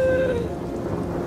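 Rain falls steadily with a low thunder rumble over a short stretch, following a brief fading tone at the start; no voices.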